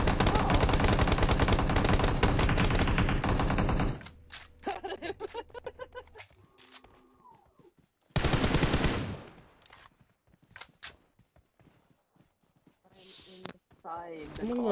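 Gunfire from a shooting video game, loud dense bursts filling the opening seconds and returning in a second volley, with sparse game sounds and talk in between.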